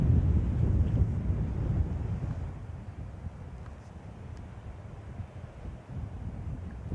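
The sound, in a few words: gusting wind on a golf course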